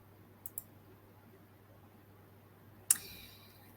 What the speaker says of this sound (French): je vais cliquer dessus.